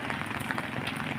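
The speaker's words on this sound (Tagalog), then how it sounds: "Ngayon, umuulan na po, mga kababayan." Steady rain falls outdoors in the Philippines, a dense, even hiss of drops spread over the whole moment with no clear voices over it.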